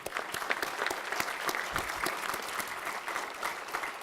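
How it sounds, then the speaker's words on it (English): Steady applause from a large audience, dense clapping throughout with no pauses, fairly loud and even. "Let's give a round of applause, please."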